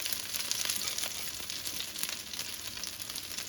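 Fish cakes fry in vegetable oil, a steady soft sizzle and crackle that holds at an even, fairly quiet level throughout, with no voices.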